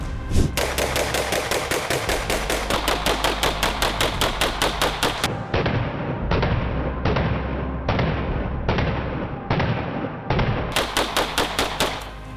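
Rapid gunshots crack in steady bursts, loud and close, with short pauses between strings of shots.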